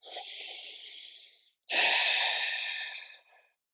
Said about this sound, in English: Take a slow, deep breath here.